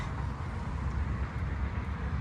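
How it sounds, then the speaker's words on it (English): A CP freight train of empty flatbed cars rolls past on a busy line beside Don Mills Road in Toronto, a steady low rumble heard from some distance with no talk. "Oh, I hear a train going by."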